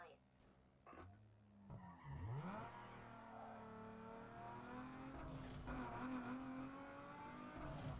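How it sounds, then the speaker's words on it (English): A turbocharged car revving hard in a racing video game, engine pitch sweeping up and down with tire skids and squeals, played fairly quietly while a person talks over it. "I mean, it sounds like turbo."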